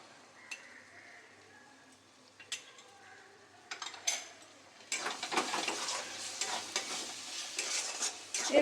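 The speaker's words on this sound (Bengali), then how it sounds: "এরপরে মশলাটা খুব ভালো করে কষিয়ে নেব।" Spices with chilli powder and turmeric frying and being stirred in a pan for egg chicken moglai, starting with scattered scrapes and clinks, then a steady loud sizzle with continuous stirring from about the midpoint.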